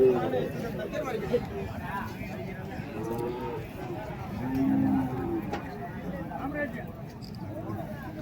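At the Madrapalli cattle market, a native cow and her bull calf stand amid a busy crowd; a low moo swells near the middle over constant chatter, shuffling and livestock noise.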